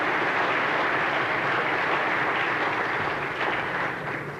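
Audience at a talk to publicans in Hawaii clapping, a dense sustained wash of applause from many hands filling the room, steady and fairly loud before tapering slightly at the end, with no voices over it.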